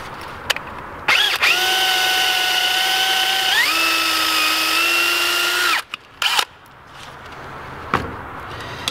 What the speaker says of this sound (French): il faut encore percer cette partie là